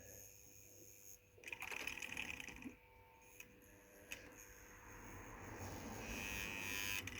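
Small Wrenn LMS tank engine model with its electric motor running, a steady mechanical whir and buzz that swells partway through and keeps going to the end, close and fairly faint.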